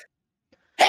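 A single sharp sneeze bursts out near the end after near silence, loud and close, with a faint breathy intake just before it, in a pottery studio where a yarn bowl is being turned on a wheel.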